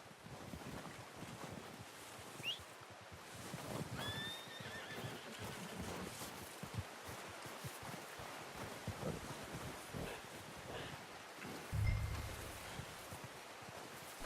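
A horse in the Red Dead Redemption 2 video game whinnies and stamps its hooves, a faint call and shuffling clip-clop over a steady wind backdrop, with a louder thump near the end.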